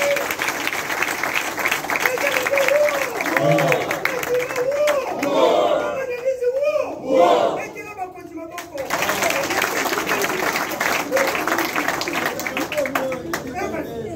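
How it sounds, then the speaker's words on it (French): An audience at a ceremony honouring comedians and graduates claps and cheers for a colleague in a long, dense burst of applause. Voices call out over the clapping, and it briefly dips before surging again. "que je vous demande d'applaudir"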